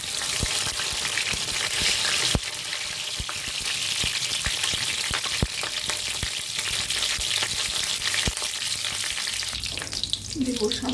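Dry red chilli and a bay leaf sizzle loudly in hot oil as a cumin tempering for Bengali ghugni, a dense, continuous frying hiss broken by sharp spatters and pops, close and unbroken throughout.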